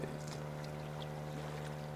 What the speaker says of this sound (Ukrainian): хвиля пішла, звук мотора